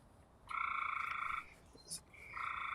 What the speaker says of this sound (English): Oh, do you hear that frog?